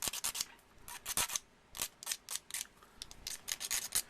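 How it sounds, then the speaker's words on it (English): Sandpaper rubs along the edge of an acrylic sheet in quick, irregular bursts of scratchy strokes, close and crisp, with short pauses between passes and no voices. "So just a little bit of sanding."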